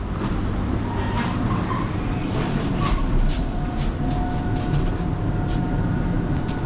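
A train rumbles at a railway station, a dense, continuous low roar with faint clanks and squeals on top, steady and fairly loud throughout with no talk.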